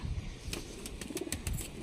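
A single soft Andhra pigeon coo rises and falls, faint and nearby, among scattered light clicks and a low background rumble.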